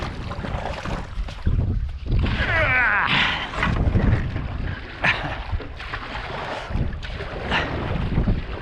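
Wind buffets the microphone on open water near Kingston, Ontario, as a canoe is paddled, with gusty, roaring rushes and faint water splashes close by.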